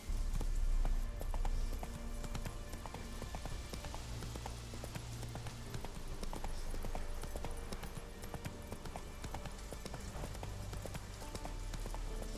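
Horse hooves clop steadily in the open-world game The Witcher 3: Wild Hunt, a continuous rhythmic gait under soft ambient game sound, with no talking.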